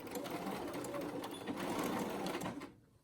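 A sewing machine stitching along the edge of a pleated fabric face mask, running steadily and close for a few seconds before it stops.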